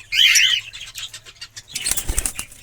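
A parrot flaps its wings in a burst of rapid, close fluttering as it is released into a cage, followed by faint scuffling and a louder rustle of movement and clatter near the end.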